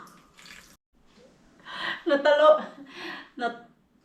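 Water poured from a cooking pot onto garden soil, a short splashing gush that swells and breaks into a few bursts, heard close by with no talk over it.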